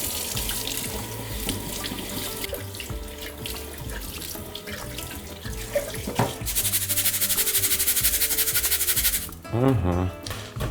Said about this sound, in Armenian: Հոսող ջրի տակ լավ լվանալուց հետո